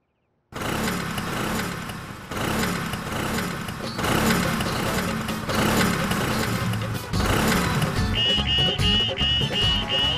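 An old antique scooter's engine sputters to life and keeps running, its uneven mid-pitched putter revving in bursts close by, with a few faint background sounds.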